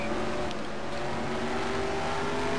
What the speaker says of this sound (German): Oh, mein Motor wird beinahe abgewürgt.